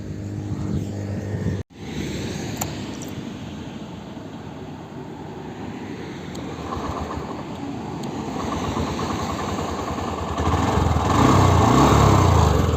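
A Honda Shine 125 motorcycle engine hums steadily while riding, mixed with strong wind rush, with a brief dropout early on and the drone growing louder toward the end; no talk.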